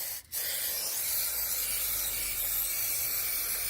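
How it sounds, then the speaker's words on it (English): A continuous aerosol spray of adhesive onto a van floor hisses steadily and loudly up close, after a brief pause at the start. "So in the car, spray the glue down."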